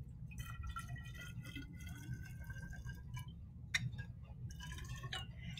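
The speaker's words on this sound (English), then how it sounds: "So I'm going to add the TTE." TTE solvent poured into a container in a lab setting gives a soft, intermittent trickle with small splashy drips, fairly close and quiet over a low background hum.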